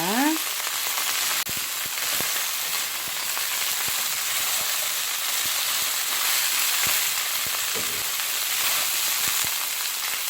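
Small shore crabs sizzle and crackle steadily in hot oil in a pan, a dense continuous frying hiss with scattered sharp pops throughout, close and fairly loud, with no talking.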